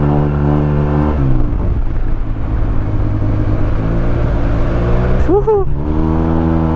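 A 2023 Yamaha TMAX 560 two-cylinder scooter fitted with a Malossi full system exhaust drones loudly and close by, its pitch shifting as the throttle changes, with a sharp rising rev near the end.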